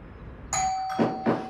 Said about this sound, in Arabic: صابرين افتحي الباب